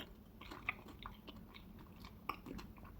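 Crunchy Dubai chocolate with milk floss being bitten and chewed close up, a few sharp crisp cracks standing out over softer, continuous mastication noises, fairly quiet with no talking.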